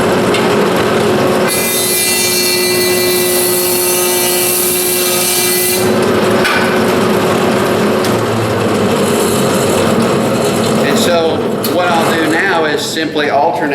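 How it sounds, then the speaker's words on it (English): An 8-inch spiral head jointer flattens the resawn edge of a board, its steady motor whine joined by a loud, harsh cutting roar that runs for several seconds before easing off, with no talk over it. "this is an 8-inch jointer, and so we're going to use this jointer to put a flat edge"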